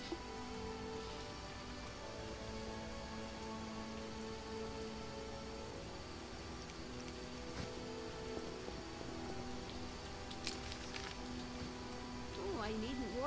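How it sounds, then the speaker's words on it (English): Steady rain falls in The Witcher video game, a constant hissing patter that continues throughout, with quiet game music tones and faint background sounds underneath. "Why is it always raining here?"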